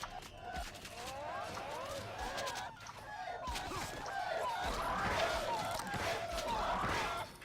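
Several chickens clucking and squawking in The Mighty Quest for Epic Loot, in busy overlapping bursts, fairly close, with a lively continuous chatter throughout.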